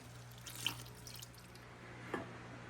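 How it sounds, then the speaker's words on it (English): A small amount of water poured from a can over grape leaves to rinse it out, a faint continuous trickle with a couple of soft splashes and no talk. "And a little bit more water just to rinse this out."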